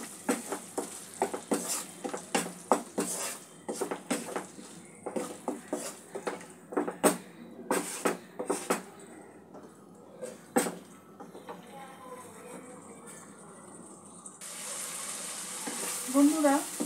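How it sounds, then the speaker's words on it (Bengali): Spice masala for egg curry is stirred and fried in a pan, with repeated scraping strokes in a steady rhythm over a low sizzle, close up, easing into a quieter sizzle near the end. "ভালো করে আবারও একটু মশলাটা কষিয়ে নেব।"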